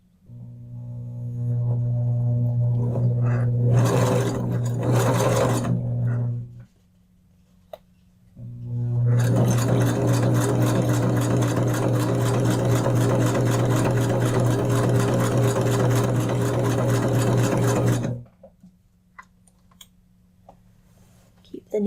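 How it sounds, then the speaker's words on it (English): A home sewing machine stitching paper junk journal cards, running in two loud close bursts with a brief quiet pause between, its steady motor hum and rapid needle clatter filling each run. "I'm just going to try and sew."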